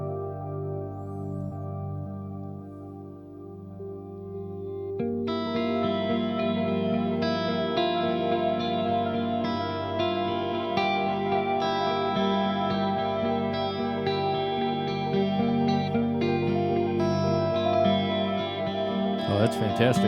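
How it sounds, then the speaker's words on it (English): Layered guitar tones through a Dawner Prince Pulse pedal with pitch-shifted, filtered full-bar echoing repeats and a wash of mood reverb, thickening noticeably after a few seconds and sustaining steadily throughout. "a full bar repeat with the pitch shifting and some filtering. I also just added in the mood reverb."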